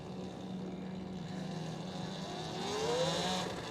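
Talaria electric dirt bike ridden in sports mode inside a store, a steady electric motor whine with a rising tonal sweep near the end as it accelerates, fairly close and continuous with no talking.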